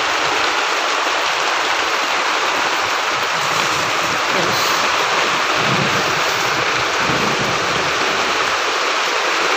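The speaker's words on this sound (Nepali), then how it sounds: "यो चाहिँ हामीले असिना छ अहिले परेको" Hail falling in a Nepali village, a dense, loud, continuous hiss and patter of ice pellets striking surfaces, steady throughout.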